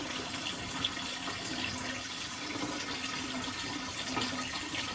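A submerged aquarium gravel vacuum motor runs underwater, giving a steady, continuous watery churning and bubbling hum at an even level for the whole stretch, with no talking.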